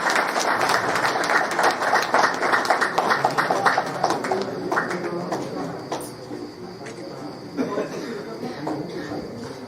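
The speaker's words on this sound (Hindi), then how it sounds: "ताली बजाते रहिए, ताली बजाते रहिए।" Sustained applause from an audience at an honour ceremony during a folk culture festival in Shivdwar, steady and fairly loud, slowly thinning toward the end, with voices talking underneath.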